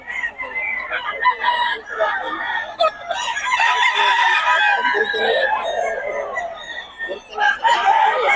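Roosters and chickens at a poultry seller's in Bocaue crow and cluck continuously, several birds overlapping near and far, with dense busy calling throughout.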